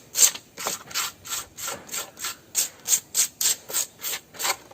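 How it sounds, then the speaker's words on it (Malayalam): An old scrap plastic chopping board scrubbed hard with old emery cloth, giving about fourteen steady, rasping back-and-forth strokes in an even rhythm, close and clear. "പഴയ ഒരു എമറി ക്ലോത്ത് ഉപയോഗിച്ചിട്ട് ഇതൊന്ന് സ്ക്രബ് ചെയ്ത് ഉരച്ചു വിടും"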